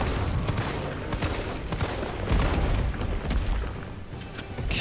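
Dense, rapid gunfire rattles through a boss fight in the video game Resident Evil 3 Remake, loud continuous bursts with booming impacts and no pause across the whole stretch.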